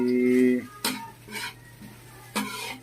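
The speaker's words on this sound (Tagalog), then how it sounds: "igigisa lang ni nana yan mabango na pag" Bagoong na isda is sautéed in a pan, giving a short tonal hum, then a few brief scraping, sizzling bursts as the fish paste is stirred, fairly quiet and close.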